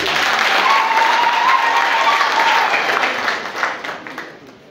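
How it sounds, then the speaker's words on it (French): A church congregation applauding loudly during an Epiphany Mass, dense sustained clapping from a large crowd that tapers off toward the end, with a faint voice briefly heard over it. "Acclamons très fort pour le Seigneur."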